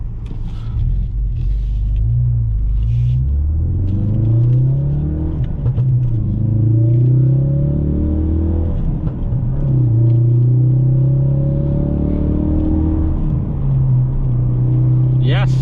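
A 2017 Ford Focus RS engine revs up and down while driving, a loud close in-cabin drone with rising and falling pitch sweeps throughout, and someone talks over it.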